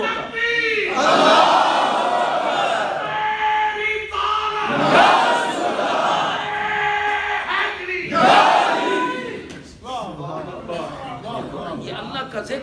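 A large crowd shouts a religious slogan in unison at a devotional gathering, the loud roars rising in three surges, each after a lead voice calls out, with speech following at the end.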